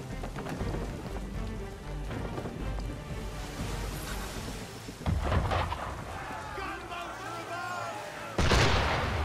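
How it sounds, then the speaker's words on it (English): Cannon fire booms from an attacking ship in Assassin's Creed III, heavy blasts over a noisy backdrop of rain-like wash, with a sharp louder blast near the end and voices talking between. "Why is he shooting at us?"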